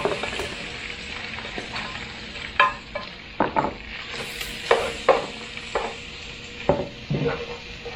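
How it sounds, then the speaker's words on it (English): Breaded chicken frying in a pan for keto Parmesan chicken, with a continuous sizzle punctuated by several sharp scraping and stirring knocks as pieces are moved around. "You dump it in and you fry it."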